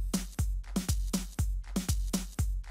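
A Purple Mash Busy Beats drum loop with maracas added, a repeating pattern of punchy low thumps and crisp shaker hits in a steady, even rhythm, clear and alone.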